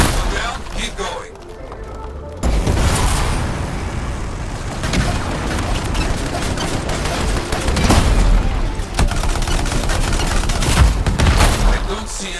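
Turrets fire during a battle in the video game Anthem, with dense rapid gunfire and booming impacts running continuously while voices talk over the combat.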